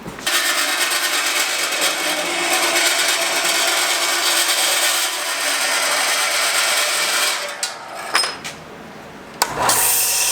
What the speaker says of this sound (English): I'm just gonna cut two pieces of little strips out of aluminum